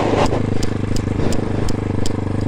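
A motorcycle engine idling close by with a small blip of throttle, a lumpy low throb with slight rises in pitch, short and continuous, with no talking.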